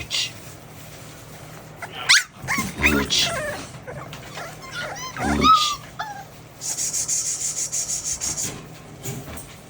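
Dogs outdoors near wood chips give short whimpers and yelps amid rustling and rubbing sounds, followed by a rapid run of squeaky, rhythmic whines, fairly close and loud with no talking.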